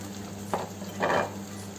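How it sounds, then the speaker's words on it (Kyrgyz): Celery stalks and garlic fry in a pan for an Uyghur lagman sauce, giving a steady sizzle with two brief scraping bursts of stirring, close and alone. "Андан соң бул селдирейдин бутактары, талчалары жана бир аз чеснокту кууруйбуз."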